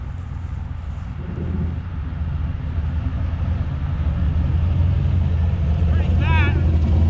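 A turbocharged 6.0 LS V8 engine, running rich on its first start, idles with a loud, steady, low drone that builds slightly over time, while a brief high chirping sound rises near the end.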